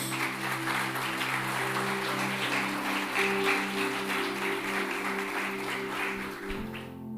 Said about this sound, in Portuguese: Aplaude o nome do Senhor, meus irmãos.